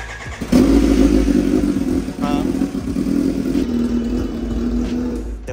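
A Kawasaki Ninja H2 motorcycle with a battery problem catches just after the start and settles into a loud, steady idle up close, with a brief clatter partway through.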